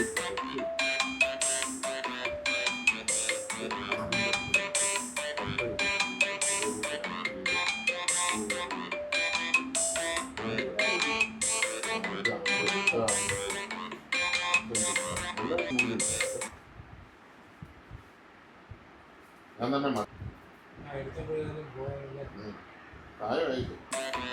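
A phone ringtone plays loud and close as a repeating melodic pattern for about sixteen seconds, then stops, leaving a quiet room with short bursts of voices.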